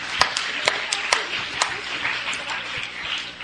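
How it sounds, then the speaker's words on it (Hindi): Audience applause at a school competition event, a steady patter of many hands clapping with sharp individual claps standing out, moderately loud and continuing throughout. "इकरा गर्ल्स हाई स्कूल के लिए जोरदार तालियां बजाइए।"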